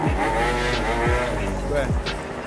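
Nearby street traffic roars past in repeated engine sweeps, several vehicles revving and shifting through gears in quick succession, loud and close with a steady rumble underneath.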